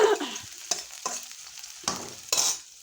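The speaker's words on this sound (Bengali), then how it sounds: "কিন্তু আমি কুচি করে কেটেছি তাই দিচ্ছি।" Finely chopped onion sizzles in a pan as a utensil stirs it, with several distinct scraping strokes over a fading frying hiss and no voices.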